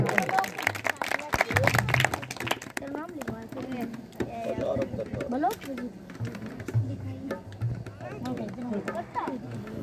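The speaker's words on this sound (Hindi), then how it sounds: "एक बार संदीप भाई के नाम की भी जोरदार तालियां बजाओ" Loud clapping from a crowd at a children's award ceremony in Haluheda, Rewari, Haryana, honouring Sandeep, fills the first few seconds before fading as someone talks over the hall.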